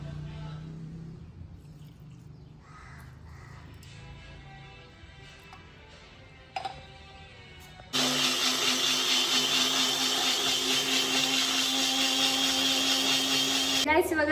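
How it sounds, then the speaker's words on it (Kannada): A kitchen mixer grinder whirs into a loud, high-pitched motorized roar as it grinds coriander leaves, garlic and fresh ginger, after a quieter stretch of handling and small clatters; the motor runs steadily close by to the end. "ಕೊತ್ತಂಬರಿ ಸೊಪ್ಪು, ಬೆಳ್ಳುಳ್ಳಿ, ಹಸಿ ಶುಂಠಿನ ಹಾಕೊಂಡು ಗ್ರೈಂಡ್ ಮಾಡ್ಕೊಳ್ಳೋಣ"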